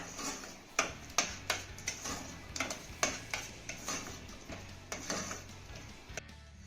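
A jaggery and salt mixture stirred in a pan, a spoon scraping and tapping against the metal in a steady rhythm of roughly a dozen distinct clinks, close and clear with no voices.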